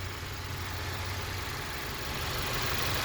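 A 2021.5 VW Atlas SE 4Motion's 2.0-litre turbocharged 235-horsepower engine idles with a steady, quiet low hum and broadband hiss, constant throughout with no voices.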